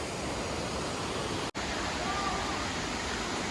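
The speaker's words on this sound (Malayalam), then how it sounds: "അവിടുന്ന് അങ്ങനെ വെള്ളം നന്നായി ശക്തിയിൽ ഒഴുകണ കാണാം" A waterfall pours heavily after rain, a loud, steady roaring rush of water filling the whole span, broken only by a split-second dropout.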